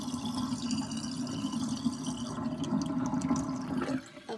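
Bath water swirls down the drain in a small vortex after a bath bomb, a soft continuous gurgle and trickle that fades out near the end, close and fairly quiet with no one speaking.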